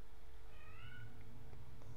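A cat meows in a drawn-out call with a rising, wavering pitch, moderately close, over a steady low room hum; a fainter short sound follows afterward.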